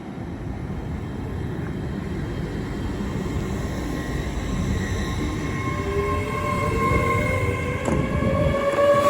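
A Great Western Railway Class 800 train, unit 800301, pulls away from Didcot Parkway with a steady low rumble and rising whine, building gradually and staying close and loud throughout, with no voices.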